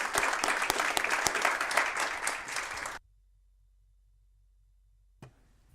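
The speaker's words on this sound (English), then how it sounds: "So big round of applause for all of those great staff." People at a council meeting give a round of applause for long-serving council staff, a dense burst of clapping that cuts off abruptly after about three seconds and leaves near silence.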